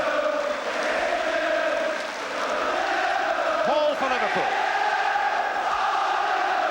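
Large football crowd at the 1974 FA Cup Final between Liverpool and Newcastle United, a steady loud roar with rising shouts and whistles throughout, under a commentator's voice.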